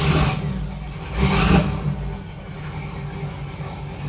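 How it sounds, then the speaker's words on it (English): A Knight Rider KITT replica car engine is revved on a cold start: a couple of rising swells of revving, the stronger one mid-way, then settling into a lower, steady idle rumble with no talking. "The car runs really well."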